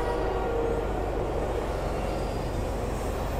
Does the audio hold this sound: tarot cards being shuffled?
no